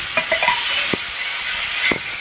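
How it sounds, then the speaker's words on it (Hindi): Spices tempering for saag sizzle in hot oil with a steady hiss, broken by a few sharp crackles and pops. "मम्मी साग में तड़का लगा रही है"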